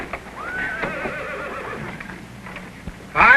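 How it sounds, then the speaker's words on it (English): A horse whinnies loudly and close by, a long wavering neigh, followed by a brief sharp noise at the end. "Mr. Trenier, this horse is as ready as he's ever going to be."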